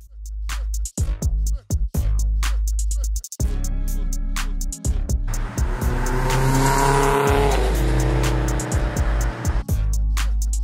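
Nissan Skyline driving on a hot day with no air conditioning, its engine running loud and steady close by, with revving swells and a sharp rise in the middle.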